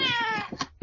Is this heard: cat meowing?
yes